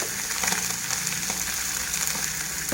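Fish sizzles steadily in hot oil with green chilies, nigella seeds and sesame, a dense, continuous frying crackle that stays close and loud throughout.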